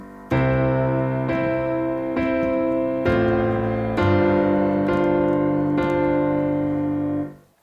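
Sustained piano chords, a slow series of about six struck chords with rich ringing overtones, played close and fairly loud with no talking, the last chord decaying away.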